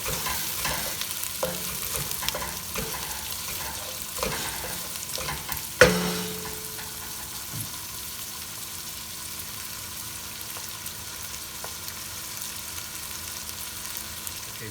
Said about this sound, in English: Let this saute.